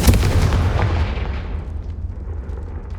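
A Confringo blasting spell in Hogwarts Legacy: one sharp explosive boom at the start with a crackling blast that decays into a fading rumble over a few seconds.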